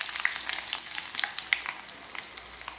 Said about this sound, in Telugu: నెక్స్ట్ ఆవాలు, ఎండుమిర్చి అండి, ఇవి కూడా వేసుకుని కలుపుతూ ఫ్రై చేసుకుందాం.